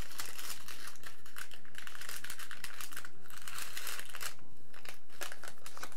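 Crinkling parchment paper rustles and crackles repeatedly as homemade pastry dough is rolled up in it, close and fairly loud, in irregular bursts of crumpling.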